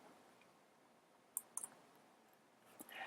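A few quick, crisp clicks from a computer mouse, quiet and close against a near-silent background, arriving in a short cluster followed by a faint rustle.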